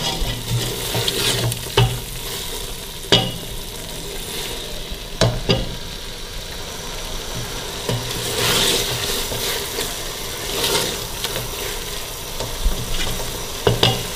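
Minced beef keema roasts on a low flame in a pan, giving a steady close frying hiss broken by periodic sharp spoon taps and scrapes.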